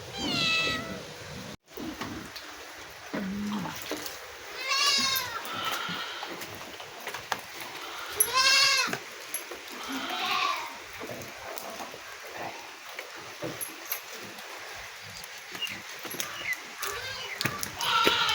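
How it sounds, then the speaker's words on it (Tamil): Young goat kids bleating repeatedly outdoors, wavering high cries that come again and again over a steady background hiss, with a person talking in between. "இதாங்க கத்துதுங்க ஆட்டுக்குட்டிங்க."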